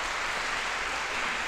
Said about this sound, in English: I think he definitely needs another round of applause.